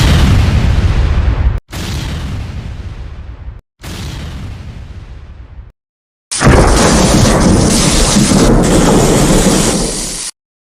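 Deep booming explosion effect for an airliner breaking apart in mid-air at cruising altitude: three loud rumbling blasts with short gaps, then a longer, brighter roaring burst of tearing noise, with no voice.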